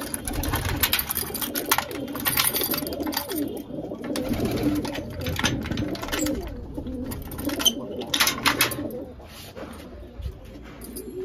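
Pigeons coo steadily at a farmhouse, a dense overlapping burble of many birds close by, with scattered higher chirps and rustling throughout.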